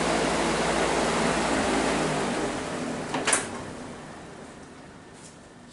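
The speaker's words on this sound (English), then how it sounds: "I'm going to shut this fan off" A workshop fan in a gel coat mould-making shop is switched off: its steady rushing whoosh winds down, a small click sounds partway through, and the noise fades to a quiet hush.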